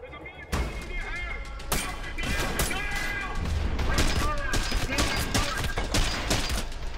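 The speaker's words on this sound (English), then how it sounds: "I'm shooting him a million times in his hands." Rapid gunfire in the gory first-person shooter Trepang 2, with dense strings of sharp, loud shots fired in quick succession and a few short pauses between bursts.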